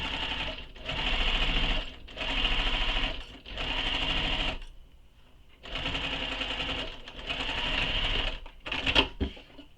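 A sewing machine stitches a shoulder bag in several long, even runs of rapid, loud mechanical whirring, each separated by brief pauses, the final burst short and choppy.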